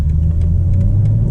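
BMW M4 Convertible with the engine set to sport mode, a steady low engine rumble droning close and continuous while driving, with no talk over it.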